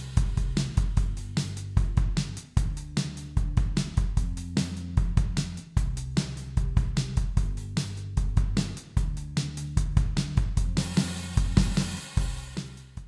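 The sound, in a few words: post punk bass line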